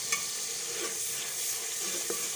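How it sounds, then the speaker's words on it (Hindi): Pumpkin curry sizzles steadily in a hot pan while a spoon stirs it, with a couple of sharp scraping clinks against the pan over a continuous frying hiss. "चाप अच्छी तरह से भून जाए।"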